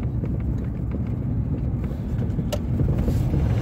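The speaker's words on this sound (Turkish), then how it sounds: "Araba geliyor." A car comes along a village road above a river canyon, its engine and tyre noise swelling gradually from a steady low rumble, partly masked by wind buffeting the microphone.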